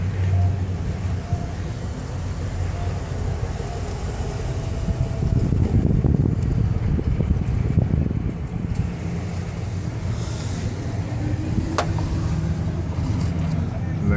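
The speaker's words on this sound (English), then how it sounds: "I'm just gonna go ahead and drive it to and from the store to get oil." A car driving to and from the store after a GumOut fuel treatment, its engine running as a continuous low hum with road and wind noise that swells in the middle, heard from inside the cabin.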